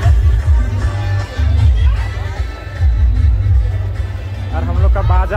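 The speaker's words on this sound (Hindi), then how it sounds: "तो गाइस यहाँ पे देख सकते हैं बहुत सारा भीड़ है पूरा पीछे तक।" A large crowd fills a Sarhul puja procession in Ranchi with steady loud murmur and street bustle, while someone talks over the noise close by.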